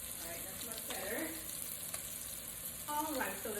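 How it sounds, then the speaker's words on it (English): Salmon fries in a hot pan with a soft, steady sizzle and crackle. The sound stays faint and even throughout, with a couple of brief clinks or stirring movements. "Alright, so the salmon is cooking."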